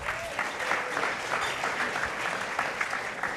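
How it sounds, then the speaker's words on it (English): Warm audience applause for a panel at a policy and partnership forum at the National Press Club; steady, fairly loud clapping from a sizeable crowd throughout, with no talk over it. "Give our good panel a round of applause."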